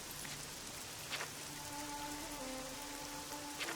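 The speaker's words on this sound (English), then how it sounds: "It's just raining." Rain falling in The Elder Scrolls IV: Oblivion, a steady soft patter and hiss of in-game rainfall on surfaces, continuous and fairly quiet, with a faint low tone running beneath and no talking.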